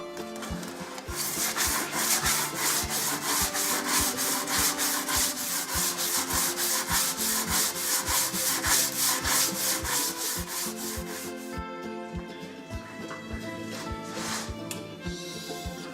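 Steady, rhythmic rasping of sandpaper scrubbed back and forth by hand over the wooden body of a cheap electric guitar, close and loud, with quick repeated strokes that ease slightly near the end.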